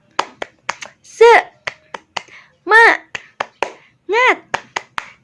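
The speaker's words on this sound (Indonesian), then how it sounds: "Tepuk semangat." Children perform a rhythmic spirit clap at home during a lesson, sharp hand claps in a quick patterned beat, with short sung or chanted voices joining in between the claps.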